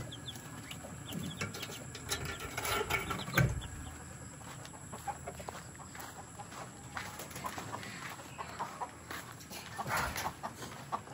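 Seven-day-old chicks peep and cheep faintly in a barn setting, small scattered chirps with a few louder calls and a brief flutter, all low-level over a constant background hum.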